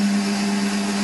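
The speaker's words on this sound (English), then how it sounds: "So over to the lathe." A metal lathe runs with a steady, even motor hum and whine, close and continuous for about a second.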